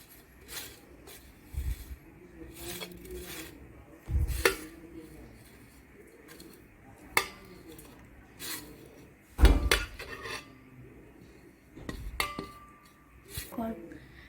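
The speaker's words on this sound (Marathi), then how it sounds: "आता मी हे सगळं मिक्स करून टाकते" Egg batter with salt and coriander powder being mixed in a bowl, with scattered knocks and clinks of utensil against dish at irregular intervals, close and moderately loud, over a faint background.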